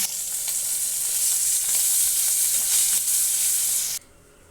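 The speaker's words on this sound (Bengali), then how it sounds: "তেল গরম হয়ে গেছে মাছগুলো ভেজে নেব" Tangra fish fry in hot oil with a loud, dense, continuous sizzle that fills the scene alone, then stops abruptly near the end.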